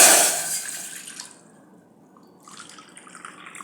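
Water pours into a cooking pot in a loud, splashy burst at the start, then fades to quiet before a softer trickle returns; no one speaks.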